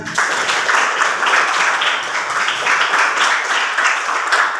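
Students in a classroom applaud a classmate with steady, dense clapping from the whole group, continuous and fairly loud throughout.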